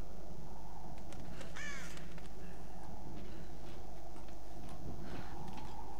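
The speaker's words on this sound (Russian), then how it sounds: "Ой, птички." Birds caw in a snowy mountain area of the Tomb Raider video game, a few harsh calls at mid distance over a steady low wind-like ambience, with no talking.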